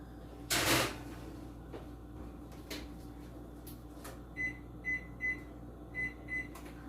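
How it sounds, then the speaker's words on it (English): A home oven door clunks once as a pan of peanut butter cookies slides in, followed by a few soft knocks and then a run of short, evenly spaced electronic beeps. "Now I can get pan number 2 in the oven"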